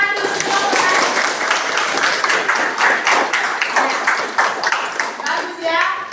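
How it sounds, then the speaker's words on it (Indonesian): A classroom of students claps their hands together in a lively burst of uneven, overlapping claps, with some children's voices mixed in beneath the clapping. "tepuk tangan dulu"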